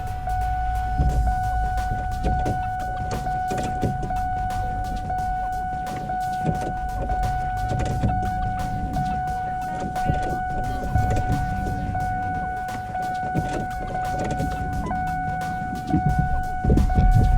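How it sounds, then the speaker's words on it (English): The fuel system of a 2003 Ford F150 with a turbocharged 5.4L V8 is primed, producing a steady electric whine with a constant tonal hum. A faint patter and rumble sit underneath throughout. "Gonna prime the fuel system a couple times"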